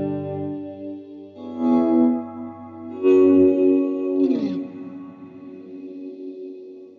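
Swelling synth-pad-like tones from a Meris Polymoon delay pedal, layered and shimmering with chorus and echo, rising in three soft waves and trailing into a smeared tail, with no talking.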